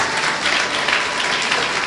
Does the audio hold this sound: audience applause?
yes